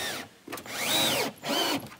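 A power drill drives screws into exterior boards on a homestead build, giving two close whining bursts that rise and fall in pitch with a short pause between them.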